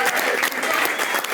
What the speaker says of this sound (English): can I just get a round of applause for John Bauer